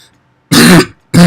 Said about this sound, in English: my cough is really bad